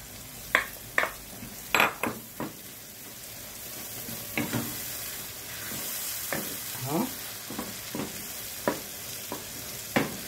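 Egyptian eggah, a seasoned egg batter with baking powder and pepper, sizzles in a hot pan while a spoon stirs it, giving irregular scraping clinks and taps over a steady frying hiss.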